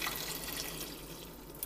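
Canned chicken stock pours into a pot for asparagus soup, a soft steady liquid splash and trickle, quiet and close with no one talking.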